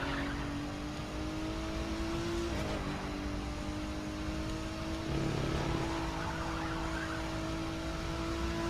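A race car engine in The Crew 2 drones steadily at high revs throughout, with its pitch dropping and climbing again at a couple of gear shifts during a Live Summit rivals race.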